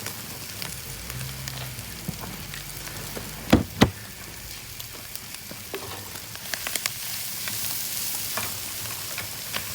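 Hash browns frying in a pan at a campsite, a steady soft sizzle outdoors with a couple of sharp knocks from a utensil near the middle and a sizzle that grows slightly louder toward the end.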